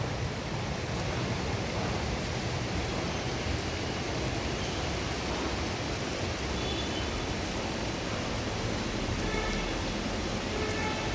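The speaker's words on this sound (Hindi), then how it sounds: "बाकी कंटिन्यूस बारिश है और इतना प्यारा मौसम हुआ है" Continuous rain falls steadily on a misty, cloud-covered hillside, a dense unbroken hiss with no voices over it.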